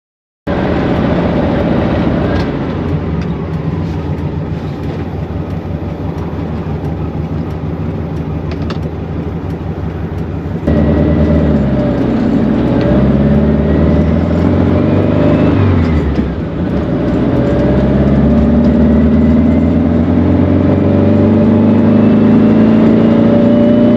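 A VW Beetle drives loudly on a test drive after new wheels were fitted, a constant heavy engine and road drone heard from inside, swelling in level partway through.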